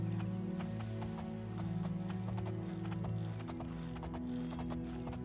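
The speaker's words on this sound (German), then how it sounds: "So, mein schwarzes Pferd." A horse's hooves clip-clop at a steady trotting rhythm in The Elder Scrolls IV: Oblivion, close and distinct over a sustained low musical drone.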